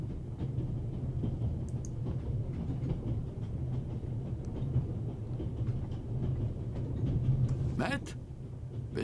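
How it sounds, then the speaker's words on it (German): Steady low rumble of an abandoned train running in the video game The Raven: Legacy of a Master Thief, continuous throughout with faint rattles, under a man's speech. "Jetzt sind wir hier im herrenlosen Zug."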